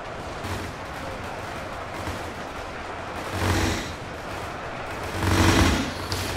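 Massed WWII bolt-action rifles fire together in a large simulated battle, two booming volleys swelling out of a steady roar of distant gunfire, with no talk.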